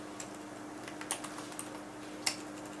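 Soft, sparse keystrokes on a computer keyboard, a handful of light clicks with one slightly louder tap near the end, heard close over a steady low hum in a quiet room.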